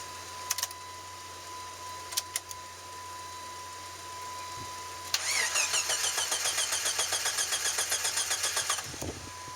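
A Jeep engine started after sitting unused for three months. Brief clicks and a pause come first, then the starter cranks in a fast rhythmic whirr for about three seconds before the engine catches with a low thump, all close by and without talking.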